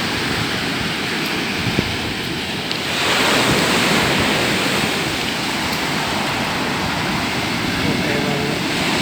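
Sea waves rolling into a river mouth on a lightly windy shore, a constant broadband surf wash that swells louder near the middle, with wind buffeting the microphone.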